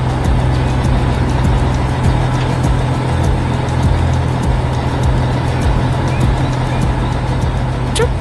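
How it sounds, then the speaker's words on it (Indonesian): A cartoon construction truck's heavy engine rumbles steadily and loudly up close, a constant low droning roar with no pauses. "Truk konstruksi warna emas bergerak dengan energi yang menggelegar"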